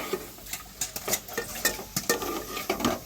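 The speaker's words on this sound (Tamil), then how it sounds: "நல்லா ஒட்டுமே கிண்டி விட்டுறாங்க." A spoon stirs and scrapes curry leaves around a hot pan, giving a quick uneven run of close metallic taps and scrapes over a faint frying sizzle.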